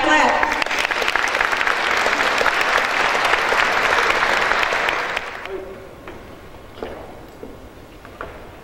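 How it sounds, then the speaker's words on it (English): Audience at a live event at the Georgia Legislature claps loudly and steadily for several seconds, then the applause thins out and fades to a few scattered claps. "Clap, clap, clap."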